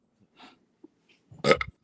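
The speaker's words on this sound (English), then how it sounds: "Excuse me, I burped." A burp during a wrestling discussion show, a loud low gurgling belch near the end of a short quiet stretch, preceded by faint breathy sounds.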